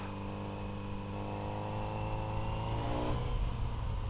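A Kawasaki Z900RS motorcycle engine revs up steadily, its pitch climbing as it accelerates, loud and close throughout with no voices.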